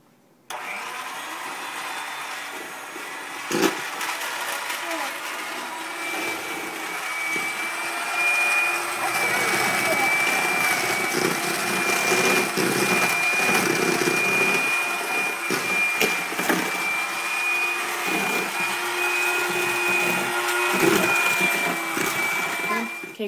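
An electric mixer creams brown sugar, white sugar and butter in a bowl, a steady loud motor whir lasting throughout with a faint high whine, while people talk over it.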